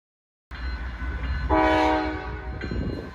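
A train rumbles past nearby in Ceylon, Ohio, and sounds a loud, sustained horn blast midway, with rolling rail noise continuing underneath.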